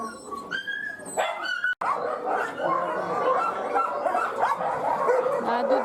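Dogs bark, yip and whimper from the kennel boxes of an animal shelter, one dog per box, in a constant loud chorus of overlapping calls close by, with people talking among them.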